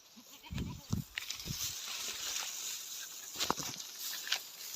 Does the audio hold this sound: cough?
no